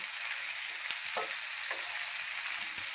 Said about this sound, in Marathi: आता छान तेलामध्ये मिक्स केली की कमी गॅस करायचा